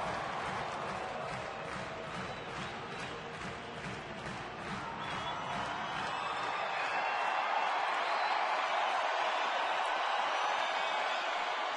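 Crowd of more than 43,000 at a Dodgers–Rockies baseball game in Colorado, a sustained roar of cheering and clapping that swells louder in the second half, with a commentator's voice early on.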